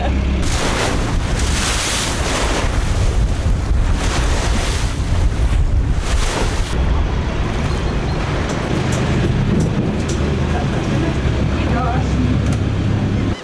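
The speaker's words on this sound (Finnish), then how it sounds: "nyt tää vene kääntyy ja sitten me lähdetään ajelee vettä pitkin saareen päin" Boat motors across open water toward an island near Kotka, with heavy wind buffeting the microphone, a low engine rumble and splashing hull noise running loud and continuous throughout.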